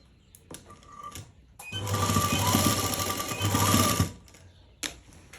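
An electric sewing machine stitches lace onto fabric in one loud, fast, whirring run of about two seconds, with a few light clicks and handling noises before and after.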